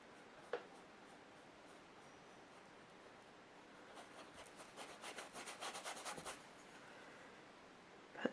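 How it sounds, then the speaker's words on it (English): Soft brushing of gesso across a painting surface, a faint dry rubbing that grows into a run of quick, slightly louder strokes midway, with a light tap near the start and end. "I'm going to brush a little bit of gesso"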